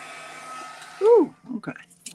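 A crafting heat tool drying ink on a project: a steady whirring blow fades out, followed by a short burst of voice and a few small sounds, with talk present.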